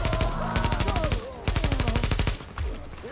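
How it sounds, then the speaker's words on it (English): Rapid automatic gunfire from Tom Clancy's The Division comes in several loud, close bursts, with short pauses between them and a final short burst. "What was I shooting at?"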